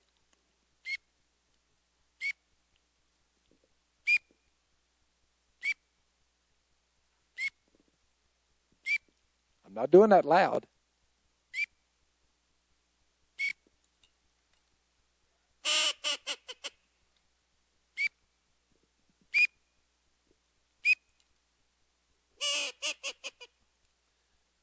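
A duck call imitates a green-winged teal drake whistle, giving short, high peeps at a steady rhythm, with a few louder rasping calls and a brief spoken remark.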